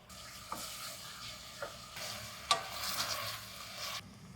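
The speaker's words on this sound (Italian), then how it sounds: "E aggiungiamo le cipolle. Fiamma bassa perché voglio che possano rosolare e ammorbidirsi delicatamente," Sliced onions sauté gently over a low flame in a pan, a soft quiet sizzle with occasional light stirring scrapes and clicks, no voices.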